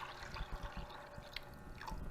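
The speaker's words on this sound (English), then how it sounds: "And then just fill it with enough water." Water is poured into a pot of pinto or black beans, giving a faint, quiet splashing and gurgling trickle with soft drips close by.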